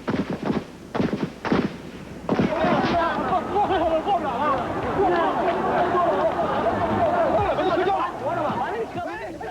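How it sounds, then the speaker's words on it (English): Sharp cracks of gunfire burst at the start, then a dense crowd of voices and chatter carries on under scattered pops, in a city taken over by soldiers. "Gunfire was heard throughout the city."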